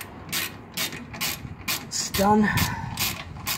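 A ratchet clicks in quick, evenly spaced bursts while tightening a rear brake bolt on a 1998 Nissan Pulsar SSS SR20, with a brief spoken word midway.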